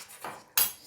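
Metal spoon scraping and knocking inside a cooking pot while butter is stirred in for Sierra Leone jollof rice, two short clinking scrapes close by, the second louder.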